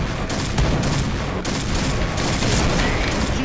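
Rapid automatic gunfire in the Point Blank online shooter, a dense continuous burst of loud shots running without pause, with no talking.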